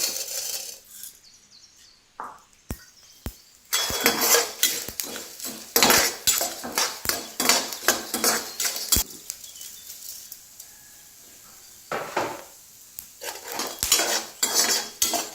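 Coriander seeds are dry roasted in a kadai while being stirred, producing bursts of rattling, scraping metal clatter in uneven rhythm, separated by brief quiet gaps, loud and near.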